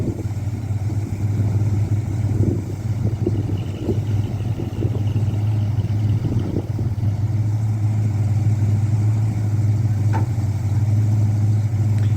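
Pair of old school hot rod engines idling at an outdoor spring swap meet, a steady low rumble holding for the full length with occasional brief knocks and faint background activity.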